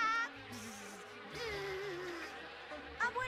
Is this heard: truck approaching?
no